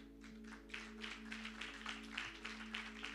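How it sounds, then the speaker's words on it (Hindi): A church congregation at a Sunday sermon breaks into applause. The clapping is quiet and distant, a steady patter of many hands over a constant low hum, with no voices. "इसकी दिलेरी के लिए तालियां बजा दें।"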